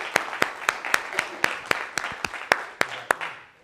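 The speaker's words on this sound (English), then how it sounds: "Get a big round of applause for them" Conference crowd at a Power Network Group keynote event clapping for the speakers, with a few sharp, evenly spaced loud claps standing out over a thinner spread of clapping, close and rhythmic.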